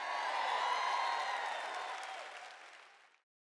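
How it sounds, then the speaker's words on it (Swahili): Church congregation at a Joyce Meyer Ministries sermon erupting in applause, cheers and ululation, a dense bright roar of many voices that holds steady and then gradually fades away to silence. "Jamani, shangwe na vigelegele."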